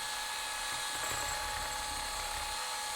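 A high, steady whine of a power drill mixing resin, running continuously for a few seconds, loud and close, with no talking.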